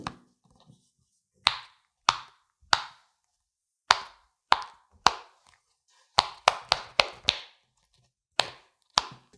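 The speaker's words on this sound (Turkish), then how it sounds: "Ve bu da yine Mickey Mouse'lu popit. Patlatıyorum Fatih." A Mickey Mouse pop it fidget toy made of stiff plastic, its bubbles pressed one at a time into crisp, loud pops spaced irregularly, some in quick runs, close up with no talk.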